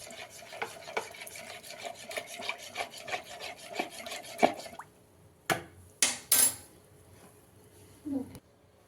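A spoon stirs honey and lemon into a glass of vegetable juice, making a steady run of close scraping, clinking strokes, then a pause followed by a few louder knocks and taps against the glass.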